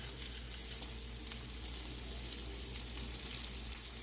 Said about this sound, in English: get them into the oil so that they can get to frying